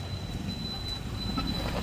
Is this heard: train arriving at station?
yes